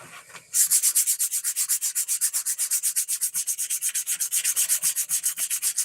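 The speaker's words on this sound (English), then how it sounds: "Why are you scuffing it? So the paint sticks better." Repeated back-and-forth scuffing of a surface in a crisscross pattern to prep it for paint, a steady fast rasping rhythm of about four strokes per second, close and loud, continuing alone throughout after a brief quiet start.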